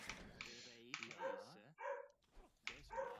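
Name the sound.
dog barking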